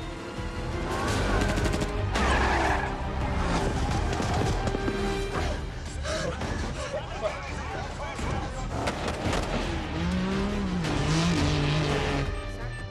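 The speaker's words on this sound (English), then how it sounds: "Sir, we have an unidentified vehicle approaching." A vehicle approaches with roaring engine and squealing tires in a chaotic action-film rescue scene, mixed with bursts of gunfire, crashes and urgent shouting voices, loud and dense throughout.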